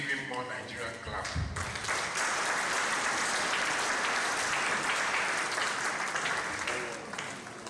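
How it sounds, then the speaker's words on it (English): Steady, dense applause fills a summit hall, a large audience clapping continuously at even loudness before easing slightly at the end, with some voices under it. "Please give him more Nigerian clap."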